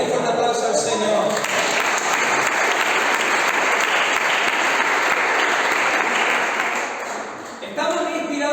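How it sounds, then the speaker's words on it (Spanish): A church congregation bursts into loud, sustained applause that fills the room for several seconds, with a preacher's voice heard at the start and again as the clapping dies away. "de un fuerte aplauso al Señor."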